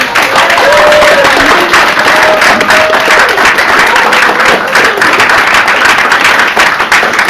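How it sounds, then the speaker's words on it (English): Audience applause at a poetry celebration event fills the hall, loud, dense and continuous clapping from a crowd throughout, with no talk over it. "Please give a huge, joyful round of applause."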